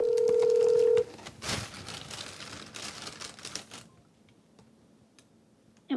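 An unanswered phone call gives a single clear one-second ringback tone, then gives way to a stretch of light clicking and tapping noises that fade toward quiet.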